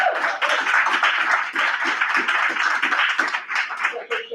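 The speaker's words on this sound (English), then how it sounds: "I'm just going to give them a round of applause" Round of applause at a township municipal council meeting, steady dense clapping from a room full of people throughout, fairly loud and continuous with slight swells, no talk over it.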